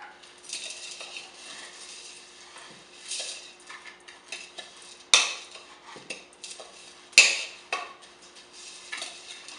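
Apples and sugar being stirred in a mixing bowl for an apple pie filling, with soft scraping and clinking of a utensil against the bowl, a few sharper knocks standing out, fairly close and moderately quiet.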